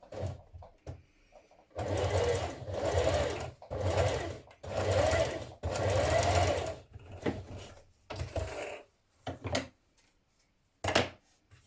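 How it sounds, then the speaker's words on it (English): A sewing machine runs a long straight stitch around a corner of a pocket on children's dungarees, in several loud close bursts separated by short pauses and light handling clicks. "So with a long straight stitch, we're going to stitch around this corner."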